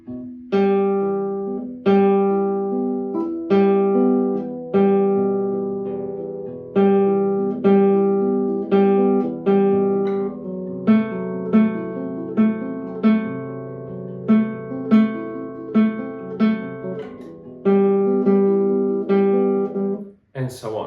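Fingerpicked guitar etude pattern repeating in a steady cycle, notes on the third string punched out louder than the others, played close and clear with a short pause near the end.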